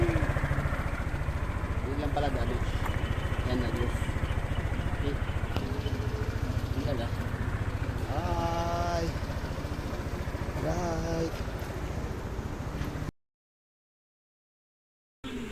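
A restarted Honda PCX scooter idles steadily nearby while people talk over it, the engine hum continuing until it cuts out briefly near the end.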